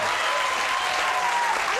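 A studio audience at a late-night talk show applauding, a dense, loud burst of clapping that runs the whole short stretch.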